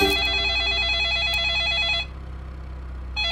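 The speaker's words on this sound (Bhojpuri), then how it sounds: "जीजा जी का फोन उठाए बात करें।" A telephone rings with a repeating electronic trill pattern, loud and close, for about two seconds before stopping, then starting again briefly at the end, with no one talking over it.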